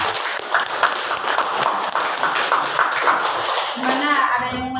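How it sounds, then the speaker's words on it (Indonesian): Classroom applause for a student in a Quran and Hadith lesson for grade XI, a brisk burst of many hands clapping close by that fades as a voice starts speaking at the end. "Kasih aplaus untuk Iha."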